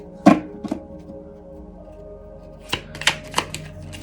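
Tarot cards shuffled by hand in a few crisp bursts, one near the start and a quicker cluster of riffles toward the end, with a quiet pause between.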